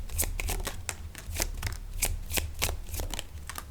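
Tarot cards are shuffled by hand in a quick, steady series of crisp riffling slaps and flicks, close and clear, with no talking.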